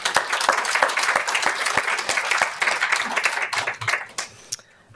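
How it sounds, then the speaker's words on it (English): Lecture audience claps in a lively burst of applause, strong and sustained for about four seconds before fading out quickly. "Can we give a round of applause for all the people in our lives who've cared for us?"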